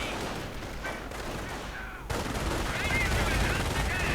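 Rifle and machine-gun fire rattles through a Company of Heroes battle between American and German infantry, with Panzergrenadiers firing Gewehr 43 rifles, dense continuous volleys swelling louder partway through, heard under a commentator's voice.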